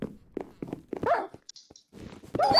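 Several dogs in the video game Minecraft Nazi Zombies give a run of short barks and yips at varying distances, with a high whine in between and a louder burst at the end.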